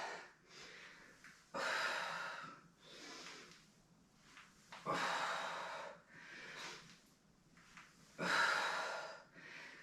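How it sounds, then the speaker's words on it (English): Heavy rhythmic breaths during a pregnancy-friendly strength workout: three loud, forceful exhalations, each a sharp onset tailing off, with quieter breathing between, close to the mic and without speech. "Breathing out as you come up."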